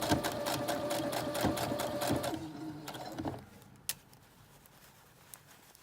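A sewing machine runs close up, stitching a gathered sleeve cuff in a fast, even rattle of needle strokes for about three seconds before slowing and stopping, leaving a few quiet clicks and handling sounds.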